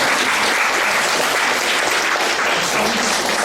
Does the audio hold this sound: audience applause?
yes